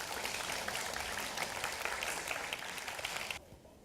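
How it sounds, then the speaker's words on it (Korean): Steady audience applause at a high school team competition award ceremony, a dense, moderately loud clapping from the crowd that cuts off abruptly near the end. "큰 박수 부탁드립니다"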